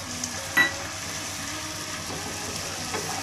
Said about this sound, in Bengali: এবারে সবগুলো মশলা আমি খুব ভালো করে একটু কষিয়ে নেব